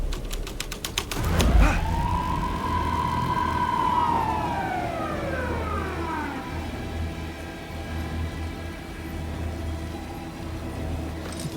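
Police car siren in the video game Alan Wake 2, a single loud wail that rises sharply, holds, then slowly falls and fades away over a steady low hum.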